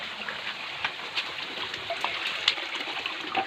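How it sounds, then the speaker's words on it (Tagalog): Clear stream water flows at Kasabel in Bohol, a steady close trickle and babble with small splashy spikes, no talking. "Ito na ang tubig nyo sa Kasabel guys."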